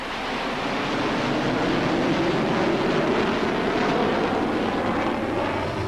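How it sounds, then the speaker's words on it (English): Jet plane taking off, a loud continuous roar of engines with a slowly rising whine, steady and close with no pauses. "Look at those jets. White hot air pushing the plane forwards until it's fast enough to take off."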